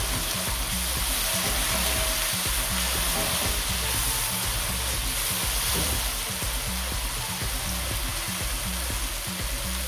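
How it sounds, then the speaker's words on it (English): Thai curry paste sizzles and fries hard in a hot pan, a loud, dense, continuous hiss that stays even throughout with no talking. "add 3 tablespoons of your paste. And just cook that off slightly"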